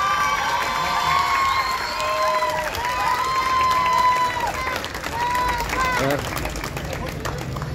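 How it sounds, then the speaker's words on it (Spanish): An audience at a cultural event in a town theatre applauds and cheers after a dance performance, with dense clapping mixed with shouts and excited voices throughout. "Pidémosle un fuerte aplauso."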